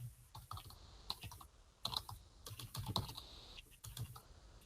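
Quiet keystrokes clatter on a computer keyboard in short, uneven bursts with brief pauses between them, close by and with no voices.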